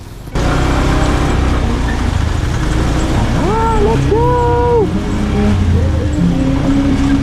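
A motorcycle borrowed for a night ride runs loud and close with a steady engine drone and rising, falling tones as it moves off, while a voice shouts over it.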